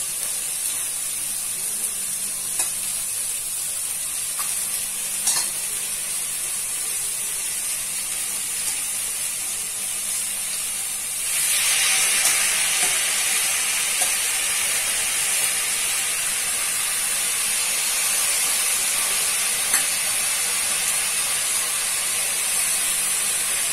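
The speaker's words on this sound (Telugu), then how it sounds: "బెండకాయలు వేసుకున్నాం కదా అదండి బాగా వేసుకోవాలి" Okra pieces fry in a pan with a steady, loud sizzling hiss that holds for the whole stretch and swells noticeably about halfway through. No one speaks.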